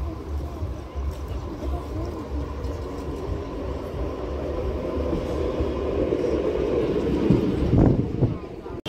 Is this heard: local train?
yes